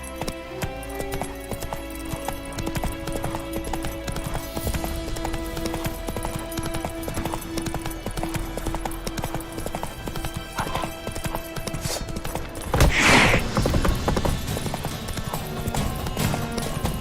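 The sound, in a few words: horse Roach trotting in The Witcher 3 video game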